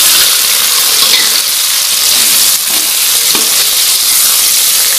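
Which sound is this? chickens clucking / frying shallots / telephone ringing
frying shallots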